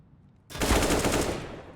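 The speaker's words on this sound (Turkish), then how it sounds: "Evet Dead Imor'u vurdu" Burst of automatic gunfire in a competitive shooter match, a sudden loud rattling volley that starts abruptly after a brief quiet and keeps going for more than a second.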